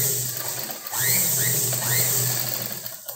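A sewing machine runs in short bursts while stitching a fabric strip, a whirring motor hum that rises and dips in pitch, close and fairly loud over a steady background hum.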